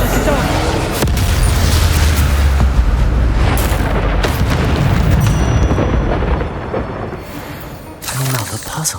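Confringo fire spells exploding in the Hogwarts Legacy video game, a dense run of loud booms and bursts stacked over rumbling game action, easing briefly before a final blast.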